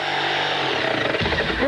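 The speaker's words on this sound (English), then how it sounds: "If you're looking for a quality power tool" A Porter Cable power tool runs with a steady, loud mechanical whine and buzz in a radio advert, its tone shifting partway through the short burst.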